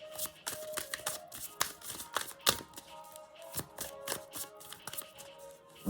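A deck of cards being shuffled by hand produces a steady run of soft, close riffling and tapping clicks at an uneven rhythm, with no talking.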